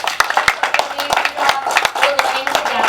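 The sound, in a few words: round of applause for club officers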